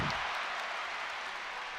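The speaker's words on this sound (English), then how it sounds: "the crowd is really getting into it" A college basketball crowd at a Michigan versus Long Beach State men's game roars and applauds, a dense, sustained wash of cheering and clapping throughout.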